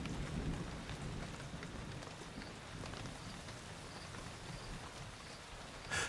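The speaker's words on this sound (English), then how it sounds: "Winter rain is unusual in Botswana." Steady winter rain falls on the ground around a riverside camp in Botswana, a dense continuous hiss with faint low rumbles, heard alone without voices.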